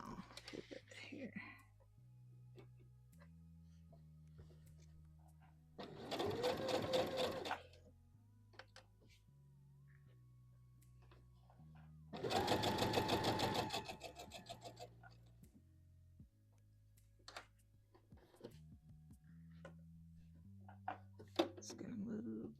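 A home sewing machine stitches a Vogue V2000 DVF wrap dress in two short, separate bursts. Someone talks quietly between and around the runs.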